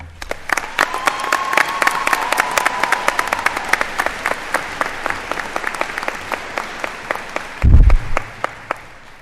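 An auditorium audience at a UW-Whitewater spring commencement claps steadily to welcome an alumna speaker to the podium, the dense applause continuing throughout with a brief low thump near the end.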